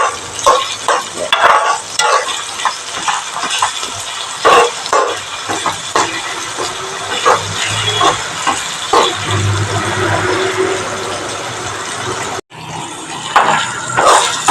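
Sliced onions sauté in a pan with salt for a tomato curry, giving a soft steady sizzle broken by repeated scraping stir strokes, close and fairly loud, with a short pause near the end.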